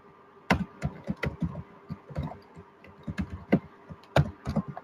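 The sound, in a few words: typing on a computer keyboard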